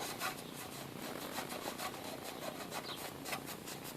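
A Scotch-Brite pad scrubs metal on a Briggs & Stratton Intek engine, a faint, continuous abrasive rubbing with quick back-and-forth strokes, steady and low in level with no voices.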